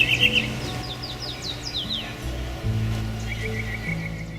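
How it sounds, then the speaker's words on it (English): A tropical mockingbird sings from a tree on resort grounds in Belize, a series of quick whistled chirps and sweeping phrases over a low background rumble. "From a tree, a tropical mockingbird fills the air with its distinctive song."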